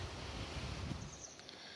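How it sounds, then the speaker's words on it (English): Gust of wind buffeting the microphone outdoors on a walk between South Woodham Ferrers and Maldon, a faint rough rushing roar that eases slightly toward the end. "I got caught by a gust of wind"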